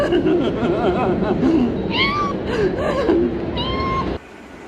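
A man imitates a kitten's high, wavering meows several times, close to the listener, with breathy chuckles and a steady background hum.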